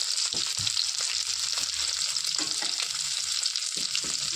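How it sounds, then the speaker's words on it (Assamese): Boiled potato pieces frying in a pan, with a dense, steady sizzle and occasional low scraping and clinking as the pieces are moved around. "আলুকেইটা ধৰক ভাজি লওঁ ধুনীয়াকৈ।"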